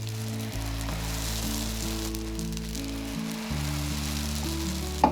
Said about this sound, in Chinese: 我们全程用中火来煎饼。